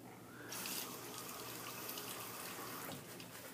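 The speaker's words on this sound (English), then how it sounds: "I'm just going to turn the water on a trickle here so I can add water" Water runs steadily from a faucet turned on at a trickle beside a watercolor painting setup, a soft continuous wash of flow that starts about half a second in and holds evenly.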